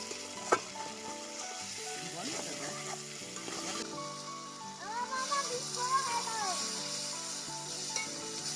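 Potatoes stir-fry in a spicy masala in a pan, with a continuous sizzle and repeated scraping of the spatula, while faint voices murmur in the background.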